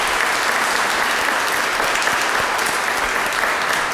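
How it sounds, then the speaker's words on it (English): A church congregation applauding, dense and loud clapping from many people filling the space evenly throughout, with no speech over it. "some applause."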